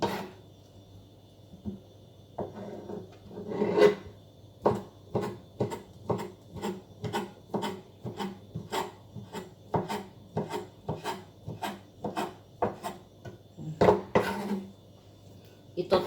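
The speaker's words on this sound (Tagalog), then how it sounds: "Hinihiwa ko siya ng maliliit kasi ihahalo ko siya sa egg." A knife chops food into small pieces on a wooden board for an omelette, with a steady run of crisp, close taps over about sixteen seconds and a few louder scraping strokes.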